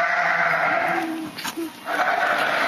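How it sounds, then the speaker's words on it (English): A young sheep on a farm bleats several times nearby, short wavering calls rising over steady background noise, with a brief lull in the middle before more bleating. "This sheep right here is the youngest one we have."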